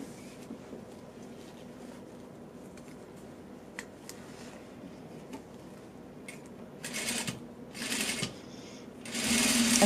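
A sewing machine fitted with a zipper foot stitches a zipper for a J fly on a pair of pants, with quiet handling sounds first, then short rattling bursts of stitching that grow louder near the end.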